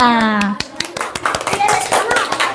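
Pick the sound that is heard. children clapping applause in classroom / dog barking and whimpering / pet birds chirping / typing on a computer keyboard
children clapping applause in classroom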